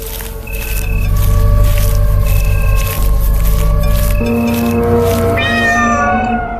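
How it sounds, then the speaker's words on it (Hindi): A large black cat yowls in a long drawn-out caterwaul, loud and close, rising and wavering in pitch before ending in a sharp upward cry, set over a dark droning musical backdrop. "झाड़ियों में से एक विशाल काली बिल्ली निकली।"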